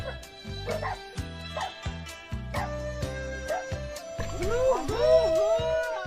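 Dogs bark repeatedly at close range in a quick, uneven rhythm, with yips and whimpering whines mixing in toward the end over a music-like background.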